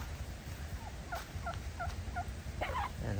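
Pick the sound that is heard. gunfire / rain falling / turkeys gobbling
turkeys gobbling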